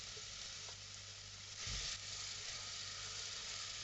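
Chopped onion frying in heated olive oil in a saucepan, a steady, quiet sizzle with a brief stir or clatter partway through, no speech.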